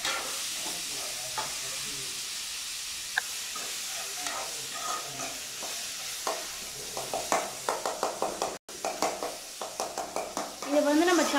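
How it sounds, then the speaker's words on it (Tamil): Tomatoes and onions sautéing in a pan, a continuous hissing sizzle with rapid, rhythmic spatula scrapes that pick up speed in the second half, and a brief voice near the end. "நல்லா கொஞ்சம் சுருளை கிண்டி எல்லாமே வதங்கட்டும் தக்காளி வெங்காயம்."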